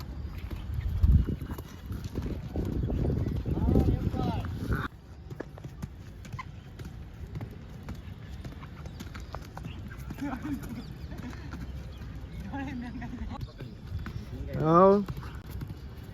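A ridden mare's hooves clip-clop in an uneven walking rhythm on the ground at close range, partly masked by riders talking and a brief burst of handling noise.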